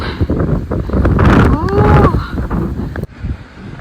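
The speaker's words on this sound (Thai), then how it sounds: "หิมะลมแรงนะ" Strong wind blows during snowfall, a loud continuous buffeting roar across the microphone with gusting surges, and a voice speaks briefly beneath it.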